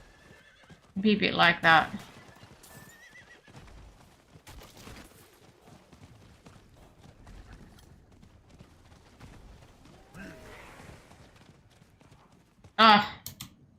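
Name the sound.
horse neighing and hooves clopping in Diablo IV video game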